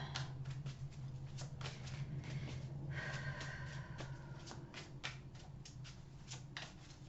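Tarot cards are shuffled and handled close by, giving a quiet run of soft rapid flicks and riffles over a low background hum.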